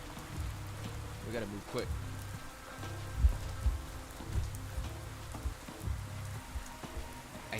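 Steady rainfall in the video game Pathologic 3 patters across surfaces as a continuous wash, with low rhythmic thumps beneath it and a brief spoken voice over the top.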